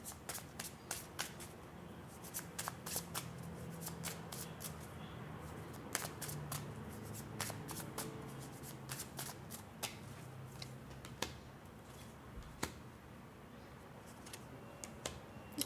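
Tarot cards shuffled by hand for a reading, with quiet crisp riffles and sharp slapping clicks repeating irregularly over a faint background.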